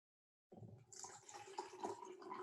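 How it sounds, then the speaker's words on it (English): Tap water splashes into and rinses out a piece of chemistry lab glassware, starting abruptly and running steadily, fairly quiet and close. "I'm just going to rinse it out with some water."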